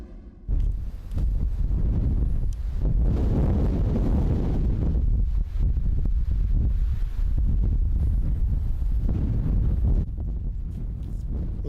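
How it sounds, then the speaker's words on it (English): Strong wind gusts outdoors in Toronto, roaring and buffeting close to the microphone in heavy rumbling surges that rise and fall for the whole stretch. "You have to hold on to your hats today. It was a windy one out there."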